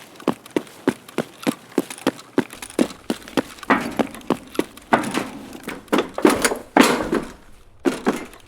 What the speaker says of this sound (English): Just creep walking on the metal.